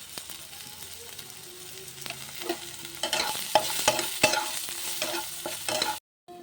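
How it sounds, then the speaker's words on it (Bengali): Bitter gourd pieces fry in oil with salt and turmeric, giving a soft continuous sizzle. Spatula stirs and clatters grow louder toward the end, and the sound then cuts off abruptly. "উচ্ছেটা ভেজে নিচ্ছি, লবণ হলুদ দেবো উচ্ছেতে"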